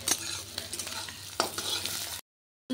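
Chopped onion with nigella seeds fries in a pan, a close steady sizzle broken by a few sharp scraping stirs, and it cuts off abruptly near the end.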